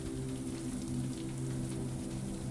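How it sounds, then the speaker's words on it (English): Steady rain falling outside an apartment with tall windows, a continuous soft hiss that runs unbroken over a low droning hum, with no voices. "you appreciate the sound of the rain"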